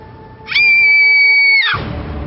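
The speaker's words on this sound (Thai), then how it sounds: "สิ้นคำถาม โซบิต้าสาวงามคนพี่ก็กรีดร้อง" In a Thai-language Arabian Nights audio drama, a woman lets out one loud, sustained, piercing scream lasting about a second. It cuts off abruptly into a low background rumble.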